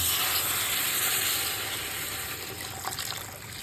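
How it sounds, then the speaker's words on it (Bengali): Water pours into a pan of fried spices for a fish-head muri ghonto, giving a broad steady sizzle and hiss with faint trickling that eases slightly toward the end, with no talk. "আমি এরপরে দিয়ে দেবো জল পরে দিয়ে দেবো আমি পরিমাণ মতো জল"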